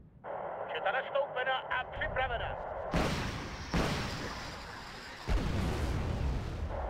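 Tank cannon rounds fire in Wargame: Red Dragon, three heavy booming blasts following one another over a few seconds, each leaving a rough rumbling tail, after a short stretch of a voice talking over game noise.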